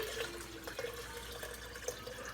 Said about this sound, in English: we're just going to pour the rest of the water in here